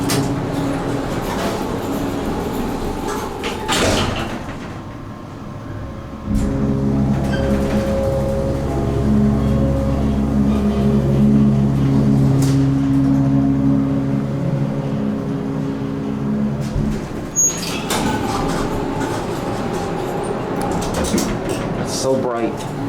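An MEI hydraulic elevator motor in a classroom building runs with a steady, humming drone that starts abruptly partway through and holds at moderate loudness, with clunks and mechanical noises around it.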